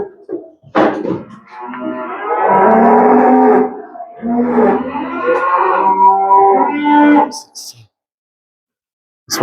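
Weaned calves moo in two long, loud, drawn-out calls close by, with a short sharp noise before them and a brief pause between, then silence.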